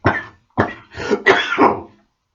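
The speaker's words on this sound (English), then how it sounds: "I got a stubborn Taurus cough" A stubborn cough repeats in four harsh, close bursts: two separate hacks, then a quick rough pair that trails off, with no talking over them.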